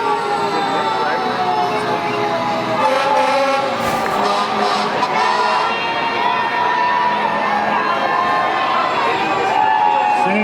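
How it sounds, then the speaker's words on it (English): Crowd cheering and applauding along a street parade at the North Hudson Pepper Fest, a dense continuous roar of voices and shouting children that holds steady throughout. "Give a round of applause."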